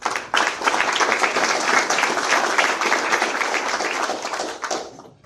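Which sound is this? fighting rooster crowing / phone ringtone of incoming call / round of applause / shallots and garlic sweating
round of applause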